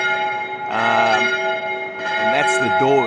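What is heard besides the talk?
church bells ringing in Seville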